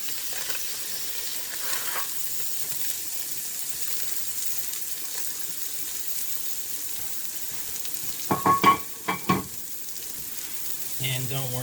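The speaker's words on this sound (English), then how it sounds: "I'm going to go ahead and put the burger down. And we're going to smash that." A burger patty smashed onto a hot griddle gives a steady, moderate sizzle, broken late by a quick cluster of loud spatula presses and scrapes before the frying hiss settles again.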